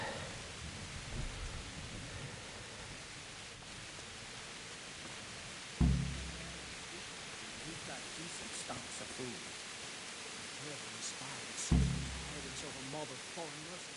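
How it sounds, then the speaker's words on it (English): Heavy rain in Kingdom Come Deliverance, a steady hissing downpour with two deep rumbling thunderclaps, while a voice speaks quietly over it. "it's absolutely tipping it down out there"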